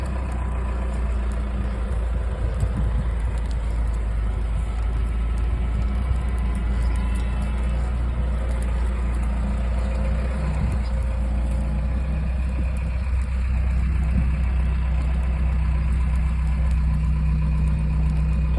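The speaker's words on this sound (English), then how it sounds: "we're going to pull it out with the backhoe" A backhoe engine runs steadily at a low idle rumble for the whole stretch, close by and unbroken, while it is used to pull a flat pivot irrigation tire out on a farm.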